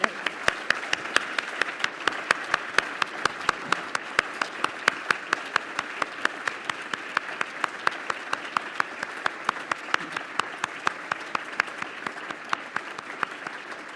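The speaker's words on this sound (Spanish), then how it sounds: "yo creo que le damos otro aplauso a Liliana." Sustained audience applause fills the room at a poetry and reflection gathering, steady dense clapping from start to finish with no voices over it.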